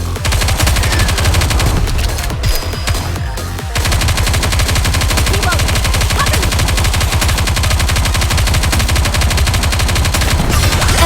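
Sustained automatic gunfire from a PC anime squad shooter, rapid continuous bursts loud and close, briefly dipping around the third second before resuming at full intensity through the end.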